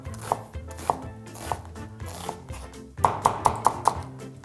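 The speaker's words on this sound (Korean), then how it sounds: "최대한 잘게 다져주는 게 좋습니다" A knife mincing green onion and onion on a cutting board, with irregular taps that speed up into a quick run of five sharp chops near the end, close and fairly quiet.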